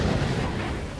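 Warship guns firing in the video game World of Warships, a dense, loud rumbling boom filling the whole short moment with no clear break, deep and close.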